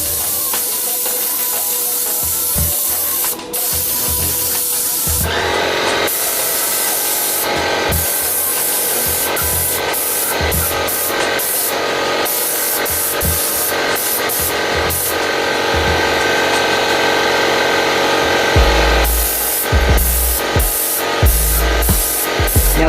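Trigger sprayer misting a regular Mod Podge mixture onto an RC army personnel transporter model, with a steady broad hiss across the whole span and repeated short trigger pulls in bursts, especially near the end.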